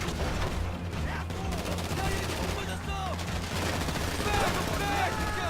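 Gunfire in the video game Grand Theft Auto V during a heist, with dense, overlapping shots and bursts running throughout under steady game noise, with a voice talking over it.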